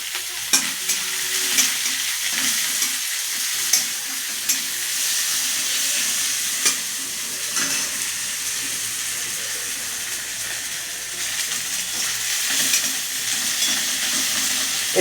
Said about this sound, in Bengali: শুকনো লঙ্কা দিলাম, তেজপাতা দিলাম, আর এই তার সাথে পেঁয়াজ দিলাম।